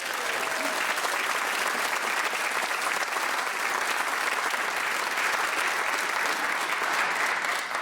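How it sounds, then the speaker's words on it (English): A studio audience in a radio theatre applauds in a full, even, continuous wash of clapping that holds steady from start to finish. "round of applause."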